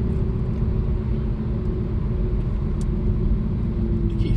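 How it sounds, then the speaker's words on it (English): A truck on a road rumbles steadily nearby, a continuous low engine and road noise with no speech. "Something tells me this truck is trying to come through."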